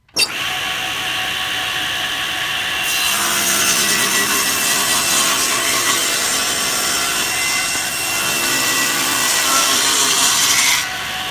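A table saw rips a narrow wood strip along the fence, a steady loud whine with a rasping cut tone that holds for about ten seconds, then eases as the blade clears the wood.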